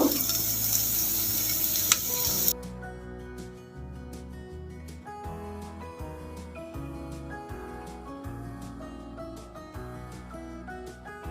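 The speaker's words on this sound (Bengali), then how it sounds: "এবার ভালো করে নাড়িয়ে নিচ্ছি।" Brinjal curry is stirred in a pan after oil is added, with a loud sizzle at first, then a spoon scraping and clattering in an uneven rhythm over a softer fry.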